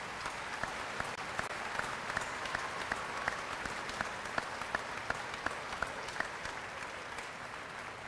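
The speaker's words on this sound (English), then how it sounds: "please stand up and let's give them a round of applause" Steady applause from a commencement crowd at Lake Area Technical College honoring standing faculty members, a dense wash of clapping with a few sharper nearby claps, even in level throughout and free of talk.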